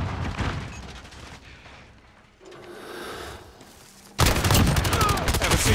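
Gunfire in Call of Duty: Modern Warfare, sustained rattling automatic bursts with rumbling booms, fading in the middle before a loud, dense volley bursts out near the end.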